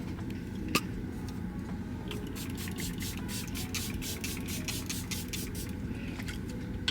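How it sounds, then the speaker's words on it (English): A bottle of Charlotte Tilbury setting spray misted during a get-ready session in a parked car: a string of quick, hissy bursts in close succession, steady and near, over a low constant background rumble. "I'm just gonna spray this with some Charlotte Tilbury"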